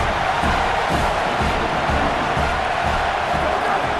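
Steady, dense stadium crowd roar from EA Sports College Football 27, a loud continuous wash of many voices with no clear breaks, trying to rattle the offense near the line of scrimmage.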